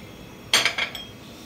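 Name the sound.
mixing gram flour and cornflour with a spoon in a bowl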